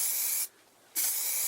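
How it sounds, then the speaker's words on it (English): Aerosol spray can hissing onto the rim of a turned wooden tea light holder in a woodturning shop, two loud close bursts split by a half-second pause. "I'm just going to spray that rim"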